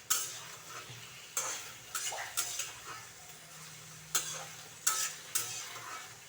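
Onion with nigella seeds and green chillies frying in a pan, a soft steady sizzle broken by several sharp scrapes and clinks of a spatula stirring against the metal, close up with no talking.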